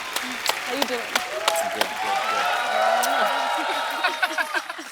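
A studio audience on a Hindi comedy talk show applauds a guest singer's arrival, a sustained bed of clapping with music swelling underneath and scattered voices.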